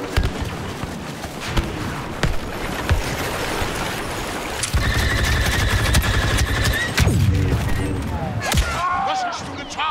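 An ion disruptor fires during a night battle on Kashyyyk in Star Wars Battlefront II (2017). Crackling blaster volleys, sharp shots and sweeping whooshes overlap in dense, continuous combat noise.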